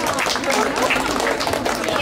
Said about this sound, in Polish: Myślę, że należą się brawa.